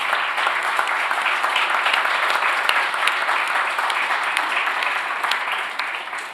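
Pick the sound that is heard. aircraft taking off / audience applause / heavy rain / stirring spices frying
audience applause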